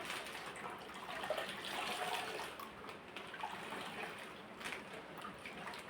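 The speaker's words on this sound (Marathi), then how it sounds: "पाणी पिळून घ्यायचं एकदा" Water is squeezed out of soaked wheat by hand, a faint continuous trickling and splashing of liquid with soft wet squelches, close and steady, with no talk.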